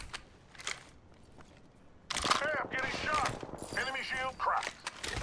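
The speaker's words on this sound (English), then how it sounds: "Hey, I'm getting shot." Rapid gunfire striking the player in the video game Apex Legends, bursts beginning about two seconds in and continuing loud and close through the rest, after a quieter opening with faint clicks.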